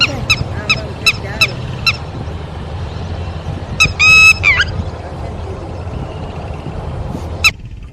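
Several birds call with sharp, repeated honking cries at a water trough, a burst of closely spaced calls in the middle and a final single call, over a steady low outdoor rumble.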